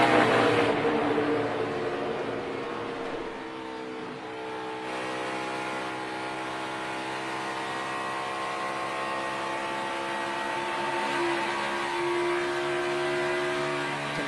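Engine of a NASCAR Sprint Cup car on a qualifying lap, a continuous high revving whine rising and holding steady with layered harmonic tones, heard at a distance with a faint hiss beneath and no talk.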